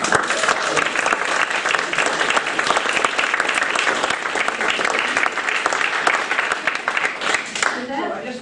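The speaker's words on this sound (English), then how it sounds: "let's give a nice round of applause to those who have been keeping this going" An audience applauds during a talk about Spitsbergen, with dense, steady clapping that carries at even loudness for about eight seconds and fades at the very end.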